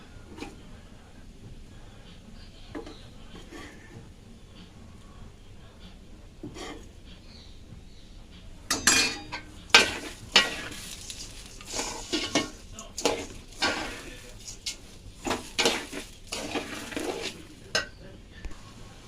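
Hilsa fish gravy being sautéed in a pot for hilsa pulao: a quiet start gives way to close, uneven clattering scrapes of a spoon against the pot, with a light sizzle beneath.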